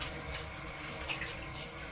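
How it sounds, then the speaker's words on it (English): Tap water runs steadily over hands being rinsed at a sink after using a low pH cleanser, a continuous close splashing hiss with no talking. "Now I'm going to rinse the rest of my hands off."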